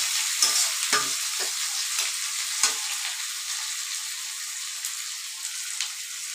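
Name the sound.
onions frying in a pan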